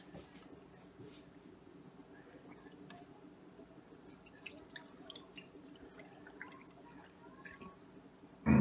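Milk from a can pours into a cooking pot for mac and cheese, a faint, steady trickle and splash running quietly throughout, then a sudden louder clunk at the very end.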